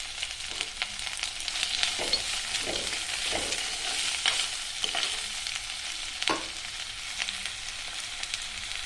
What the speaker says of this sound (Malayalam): ഇനി നല്ലപോലെ ഇളക്കി കൊടുക്കാം.